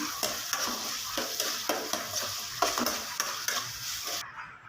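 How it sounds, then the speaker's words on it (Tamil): Steady sizzling of tomatoes frying with repeated scraping strokes of a spoon stirring through the pan, close and continuous, no voices. "இப்போ உப்பு போட்டு நல்லா கலரி விட்டுக்கலாம்"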